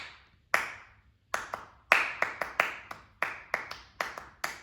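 Hands clap out a rhythm pattern for a music audition ear test, sharp close claps in uneven groups with short pauses between phrases, heard alone without talk.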